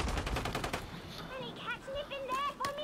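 Rapid bursts of automatic gunfire from a Call of Duty match open loud and close, then give way to scattered shots and electronic game tones, with a player's voice talking over the action.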